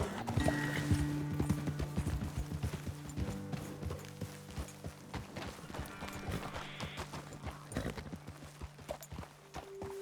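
Hooves clop in a trotting rhythm as horses move in Red Dead Redemption 2, with occasional whinnies and low sustained musical tones underneath, fairly close and gradually easing.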